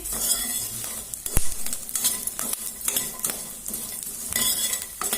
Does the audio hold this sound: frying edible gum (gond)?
yes